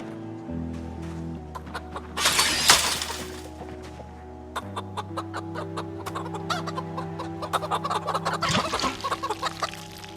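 Chickens cluck repeatedly in the Project Zomboid video game, in quick, close, irregular bursts over a steady low background hum, with a louder crash partway through.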